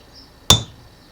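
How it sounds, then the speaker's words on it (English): A single sharp metallic hammer strike rings out on a Mazda RX-7 FC3S 13B rotary engine rotor, close and brief, against a quiet background. "So that hammering is supposed to pull this out a little bit"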